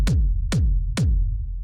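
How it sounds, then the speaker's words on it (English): Three heavy kick drum hits from a rave techno track thump at a steady tempo, each with a sharp click and a booming low tail over a continuous deep rumble. "we have the kick"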